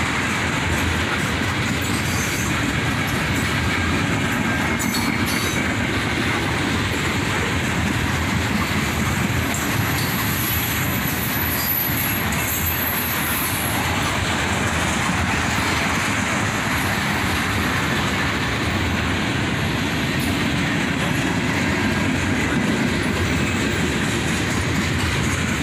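Long line of CSX tank cars rolling steadily by up close, with a constant heavy rumble, repeating clickety-clack of wheels on rail joints and faint high squeals.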